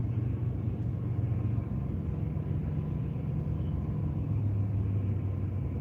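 A truck driving nearby on the road, heard from inside a vehicle as a steady low rumble and drone with no speech.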